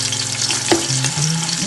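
Ginger, garlic and green chili sizzling in hot oil for a beef pickle, a dense crackling fry with occasional stirring knocks and scrapes, close and continuous with no talk.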